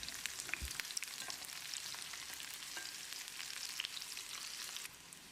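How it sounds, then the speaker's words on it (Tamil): Small shallots and garlic sauté in hot oil in a pan while a garlic tomato chutney is made, giving a soft, steady crackling sizzle with scattered pops, fairly quiet and with no talking. "இப்போ இதோட 15 சின்ன வெங்காயத்தையும் சேர்த்து வதக்கிடலாம்."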